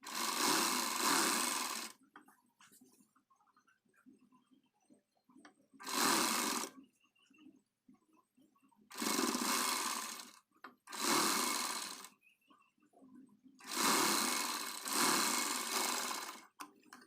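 A sewing machine stitches a blouse piece together in five short, loud bursts of whirring, separated by quiet pauses and faint handling noise.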